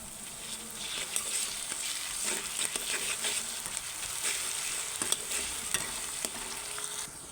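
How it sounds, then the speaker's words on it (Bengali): Fried onions sizzle in a pan with garlic paste and whole spices such as cinnamon and cloves while being stirred for a fish curry. A constant, close hiss is broken by irregular spatula scrapes and clicks. "ভালো করে নেড়ে নিচ্ছি পেঁয়াজগুলো ভাজা ভাজা হয়ে গেছে লাল হয়ে গেছে রসুন বাটাটা দিয়ে দিলাম"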